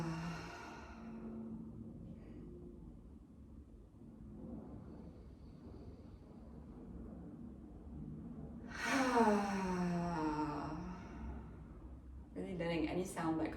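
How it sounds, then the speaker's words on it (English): A person breathes in quietly through the nose, then lets the breath out with a voiced, sighing release as a tension-relief exercise, followed by another short audible exhale; the sounds are close and fairly soft. "Inhale through your nose."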